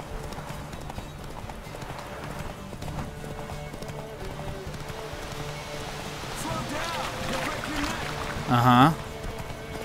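Roach, Geralt's horse in The Witcher 3: Wild Hunt, gallops with steady rhythmic hoofbeats under rain and game ambience, someone talking briefly over it and a short louder burst near the end.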